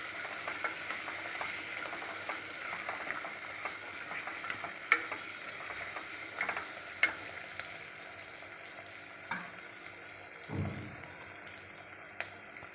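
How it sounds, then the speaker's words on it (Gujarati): Mixed vegetables with tomato and green peas being stirred in a sizzling pan for khichdi, a spoon scraping steadily under a constant frying hiss, with a few sharper clinks and a soft thud near the end. "હવે બધું મિક્સ કરી લઈએ."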